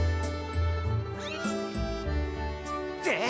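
A cat meows in the Skyward Sword video game, a run of clear pitched meows and caterwauls over a steady game music background, fairly loud and close.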